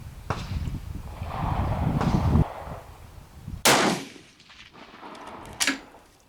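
Two sharp, loud rifle reports from a Steyr match rifle at a 200-yard range, the first near 3.7 seconds and the second near 5.6, each with a brief echoing tail over low wind rumble.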